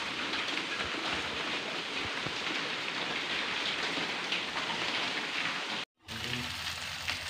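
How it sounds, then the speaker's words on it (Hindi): Heavy rain pours steadily in a dense, loud hiss of drops on surfaces, continuous throughout apart from a brief cut near the end, with no voices. "आज बारिश बहुत तेज़ हो रही है"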